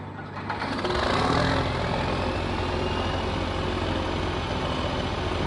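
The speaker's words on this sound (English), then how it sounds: "Listen to that turbo." Tractor engine with turbo in Farming Simulator 22, a heavy diesel drone that swells in the first second with a rising whine, then holds as a loud, steady rumble close by.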